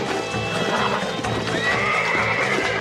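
A bucking horse in the Red Dead Redemption video game whinnies and snorts loudly over thudding hooves and a steady dense game soundscape, with no one speaking.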